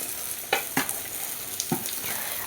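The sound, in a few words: okra added to a pan and frying with onion and garlic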